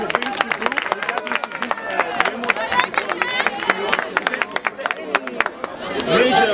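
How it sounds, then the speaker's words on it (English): Members of the South African parliament clap their hands in a chamber, a lively stretch of many overlapping claps with murmuring voices underneath. "Clap your hands."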